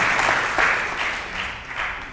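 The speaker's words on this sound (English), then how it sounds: "let's applaud for success of our forum" Audience applause at a peace forum, a dense burst of clapping from a seated crowd that fades slightly over about two seconds, no talking.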